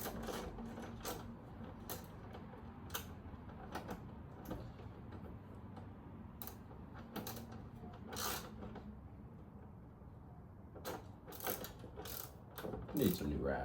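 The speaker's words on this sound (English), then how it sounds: "Need some new ratchets. More modern ratchets." A worn ratchet mechanism under repair gives off repeated sharp clicks and clacks in uneven bursts over a steady low mechanical hum, close and fairly loud, with no talking.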